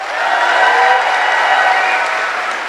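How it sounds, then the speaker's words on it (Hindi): Audience clapping at an entrepreneurs' day celebration, a dense, even burst of applause from a crowd that stays steady for a few seconds. "मैं चाहूंगी इससे ज्यादा जोर से ताली बजा सकते हैं आप मेरे मेंटर के लिए"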